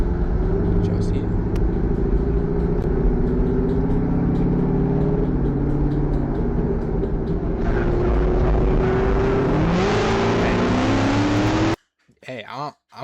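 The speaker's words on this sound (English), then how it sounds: "Can we just take a moment to appreciate how good that car sounds?" A car engine in dash cam footage drones loudly and steadily, its pitch shifting and climbing partway through before the sound cuts off abruptly near the end.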